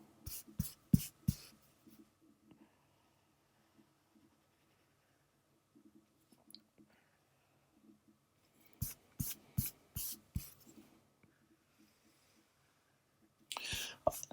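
Bursts of quick pen strokes scratching on paper, short repeated scribbles separated by quiet pauses.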